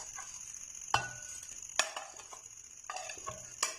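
Fried potato and onion being stirred into an egg and flour batter for a Spanish omelette, with a few sharp utensil clinks against a bowl and soft wet mixing between them, quiet and close.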